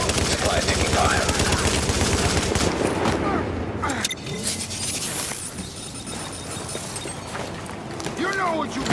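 Dense, sustained gunfire from The Division on PS4, with rapid bursts and rattling automatic fire filling the scene, heard under game voice lines and in-game chatter throughout.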